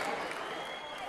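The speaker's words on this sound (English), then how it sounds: "A round of applause for everybody, come on!" Audience applause at a Strictly Come Dancing themed office Christmas party, a steady wash of clapping from a crowd filling the whole moment with no pauses.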